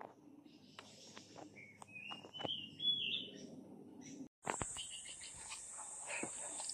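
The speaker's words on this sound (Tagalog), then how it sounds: "Ang Balinsasayaw ay yung mga ibon na sa kuweba din tumitira." Swiftlets call inside Kulapnitan Cave in Libmanan National Park, Camarines Sur, with scattered high chirps and twitters echoing over a low hum, then a brief drop to near silence before a denser, brighter stretch of calls.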